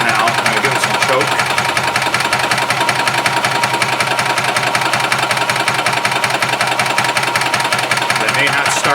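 A 1991 Yamaha G8 gas golf cart that had stopped running, now with a cleaned carburetor and new fuel pump, is being cranked with choke applied, making a loud, close, continuous rapid mechanical chugging and rattling that runs unbroken for about nine seconds.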